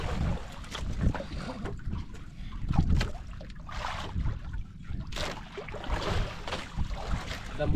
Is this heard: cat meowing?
no